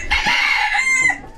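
A single rooster crows once, close and clear, a short strained cock-a-doodle call.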